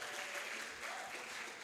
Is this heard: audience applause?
yes